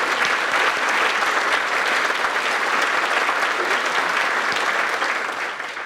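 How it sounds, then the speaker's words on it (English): Steady, loud applause from a large audience, sustained throughout and easing off slightly at the very end. "If you would please join me in a round of applause for these wonderful people"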